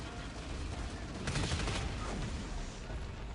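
A forge gun fires in the video game Dust 514 during a tournament match, firing at a tank in an arena, giving a dense, rumbling burst of blasts heard over continuous battle noise.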